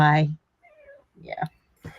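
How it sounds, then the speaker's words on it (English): A cat close by lets out a clear, loud meow, followed by a few softer, shorter cat calls with quiet gaps between them. "my cat showed up."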